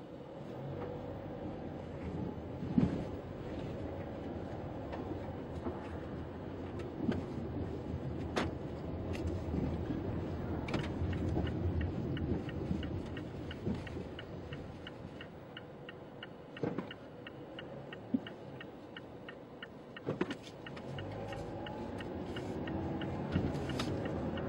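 A Mazda 3 is driven, heard from inside the cabin as a low steady road and engine rumble with scattered small clicks and ticks, fairly quiet throughout.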